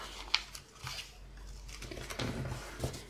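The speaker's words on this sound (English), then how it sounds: "And then those 2 pieces, I'm just folding them in half" Scrap paper and book-page pieces get folded in half for an envelope booklet: soft, close crinkles and a few sharp, quiet creasing clicks in a hushed room.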